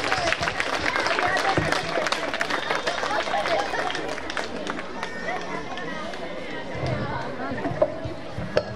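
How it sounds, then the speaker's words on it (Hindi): Audience applause at a Mother's Day school function, dense steady clapping and crowd babble filling the hall with no pause, loud and continuous throughout. "तालियां बजाते रहिए।"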